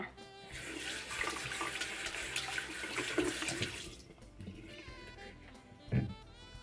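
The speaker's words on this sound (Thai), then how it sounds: "ขั้นตอนแรกนะคะของการจะใส่และถอดคอนแทคเลนส์นั่นเองก็คือการล้างมือนั่นเองค่ะ" Water runs from a tap into a sink as hands are washed, a steady close rushing that later thins into splashing and trickling, with a brief clatter near the end.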